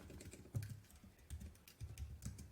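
Quiet, close clicking of fingers typing on a computer keyboard, with soft irregular keystrokes in small bursts and no talking.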